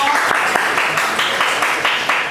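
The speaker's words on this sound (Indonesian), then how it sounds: "Ya, boleh tepuk tangan untuk kelompok." A room full of people claps together in a steady burst of applause, fairly loud and dense, lasting a couple of seconds.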